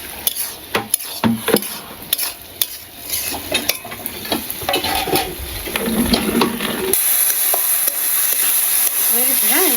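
Cumin paste and dried chillies fry in oil, with sharp repeated scrapes and clinks of a utensil against the pan over a hissing sizzle that grows louder and steadier toward the end.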